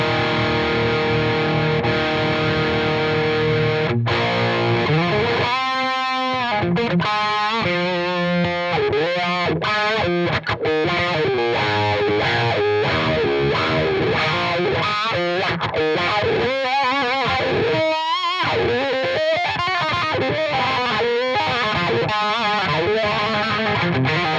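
Heavily distorted electric guitar through a Paul Reed Smith Mark Tremonti MT100 tube amp, with a thick, crunchy old-school rock tone, playing driving rock riffs and sustained chords, loud and continuous throughout.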